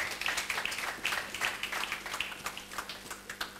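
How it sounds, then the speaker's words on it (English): Conference audience applauding during an energy-sector panel dialogue, a steady patter of many hands clapping at moderate distance, fairly faint and continuous without speech over it. "Another round of applause for Dr. Phillips."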